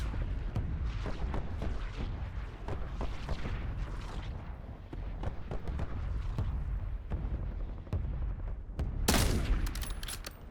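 Rapid video-game gunfire crackles in dense, overlapping bursts with booming low-end impacts, ending in a sharp, bright blast near the close.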